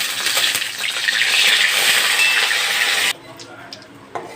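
Whole cumin, four cardamom pods, cinnamon and bay leaf spit and crackle in hot mustard oil, a loud, dense sizzle that cuts off sharply partway through and leaves only faint clinks.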